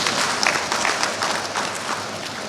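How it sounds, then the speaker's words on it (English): Audience applause for the guest of honor at a ceremony in Ghana, a dense continuous clapping from a crowd that stays loud and steady throughout. "So he needs a round of applause as of now."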